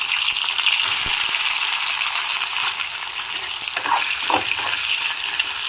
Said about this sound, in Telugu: ఆయిల్ బాగా వేడైంది. మనం ఇవి కొంచెం ఫ్రై చేసుకుందాము.